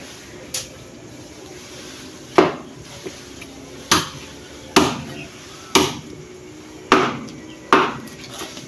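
Sharp metallic clanks of cooking pots ring out one at a time at uneven intervals, about eight knocks, each decaying quickly against a quiet background.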